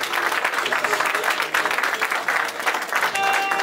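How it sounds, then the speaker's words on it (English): Sustained round of applause from an audience at a formal investiture ceremony for an insurance brokers' association council, loud and dense, with a voice speaking over it. "need a resounding round of applause"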